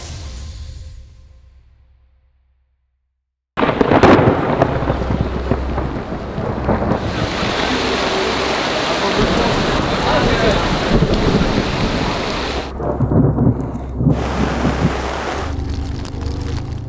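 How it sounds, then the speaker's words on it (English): A heavy thunderstorm during a mountain race: a rumble fades to silence, then a sudden loud crack of thunder gives way to dense, steady pouring rain that continues, with further rumbles. "the weather completely changed. The storm was incredible, dangerous."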